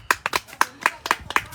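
Hand claps ring out in quick, slightly uneven bursts of about eight sharp smacks, close and bright, with no speech over them.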